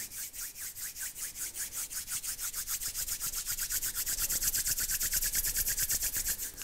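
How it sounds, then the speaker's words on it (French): Palms of the hands rubbed briskly together during a yoga relaxation, a close, soft swishing friction in a fast even rhythm that grows slightly louder, with no talk. "Frotte les paumes de main ensemble."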